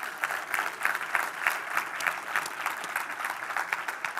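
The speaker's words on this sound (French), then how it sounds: "Est-ce qu'on peut les, euh, les accueillir par une bonne main d'applaudissements?" A church congregation applauds in a steady, dense wash of clapping, moderately distant and even throughout with no voices on top.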